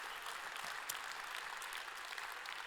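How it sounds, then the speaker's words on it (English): Steady audience applause fills a large EVE Fanfest hall, a dense wash of many hands clapping at moderate, even loudness with no break. "Give yourself a round of applause."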